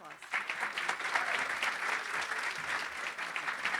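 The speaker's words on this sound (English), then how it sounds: "Y'all give her some applause." An audience at a workforce development summit applauds a speaker being introduced, a sustained burst of many hands clapping, fairly distant and even, with a little murmur underneath.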